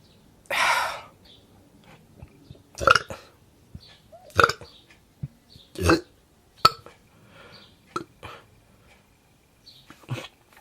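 A series of loud, separate burps, about five or six, spaced a second or two apart, with breathy sounds and quiet gaps between them.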